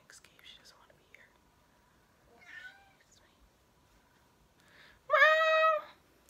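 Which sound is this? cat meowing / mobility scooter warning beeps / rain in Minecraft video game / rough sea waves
cat meowing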